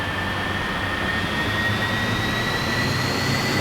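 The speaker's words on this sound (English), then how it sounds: "You almost hear 2 separate engines going." Steady, loud jet engine roar from a McDonnell F2H-2 Banshee twin-jet fighter in a flight simulator game, a continuous broadband rush with two faint rising whine tones layered on top, no talk.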